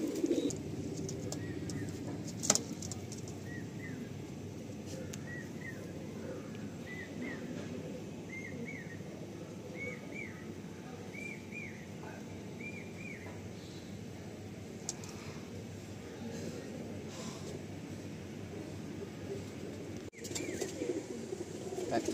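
Tiger line breed pigeons coo in a steady run of soft, rolling calls at close range, repeating through the middle stretch over a constant background hum.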